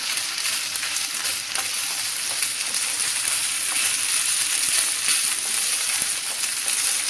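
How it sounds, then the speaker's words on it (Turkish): Rice for pilaf sautés in a pan, giving a continuous close frying hiss and crackle with occasional stirring scrapes. Nobody speaks. "Pirinçlerimiz kendini toparlayana kadar şu anda böyle yayvan toparlayana kadar kavuracağız"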